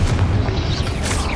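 A Confringo blasting spell explodes in Hogwarts Legacy as a dense, loud, continuous rumbling boom that fills the whole short moment.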